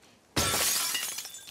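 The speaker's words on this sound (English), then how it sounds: "Unless I can use this bottle to break glass." A thrown bottle breaking glass in The Last of Us Part II: one sudden, loud shatter followed by a spray of tinkling shards that fades over about a second.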